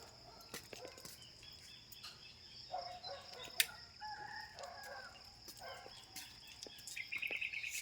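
A rooster crows at a distance amid soft outdoor ambience, with faint clucking and bird chirps scattered around it.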